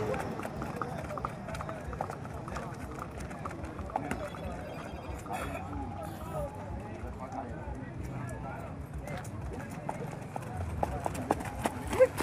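Horse hooves clip-clopping at a busy horse and animal fair in Abreu e Lima, Pernambuco, a quick irregular patter moving about at moderate distance, with people talking over it throughout.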